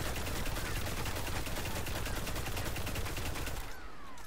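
An auto rifle, the Hakke Zarinaea-D with a 40-round magazine, fires in the video game Destiny as one long, loud, rapid automatic burst that cuts off just before the end.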